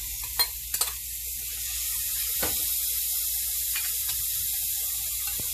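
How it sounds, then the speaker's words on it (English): Chopped onions hit hot olive oil in a skillet and sizzle in a steady hiss, with a few sharp spits and soft stirring clicks near the start, close and clear with no talk. "we're going to saute the onions"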